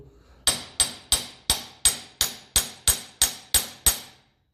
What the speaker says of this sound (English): I might have to tap him down